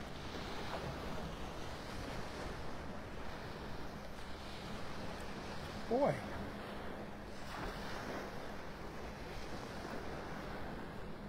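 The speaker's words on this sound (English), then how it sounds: "The waves are little waves, but they're picking up along here right now." Small ocean waves break and wash steadily onto the beach at Delnor-Wiggins in North Naples, Florida, in the early morning, with wind noise throughout. A single short word is spoken briefly midway.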